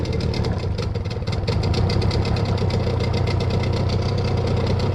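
A boat outboard motor idles steadily and loudly up close, a continuous low rumbling drone with a fast even throb and no voices.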